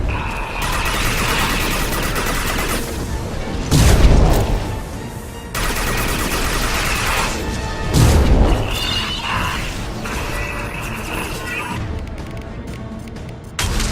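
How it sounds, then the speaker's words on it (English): Anti-ship batteries in Mass Effect 2 pound a Collector vessel with loud, sustained rumbling barrages, punctuated by two heavy booming impacts before fading into quieter crackle. "Firing anti-ship batteries at collector vessel."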